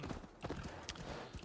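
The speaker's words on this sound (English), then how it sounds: "I can ride a horse in video game" Horse hooves clip-clop in a steady, quick rhythm in Assassin's Creed Valhalla, moderately close over a dense game soundscape.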